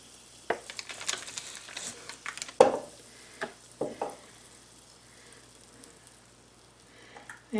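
Three tablespoons of butter melting in a fry pan while being broken up, giving a soft sizzle under repeated scraping and tapping of a utensil against the pan, close and fairly quiet.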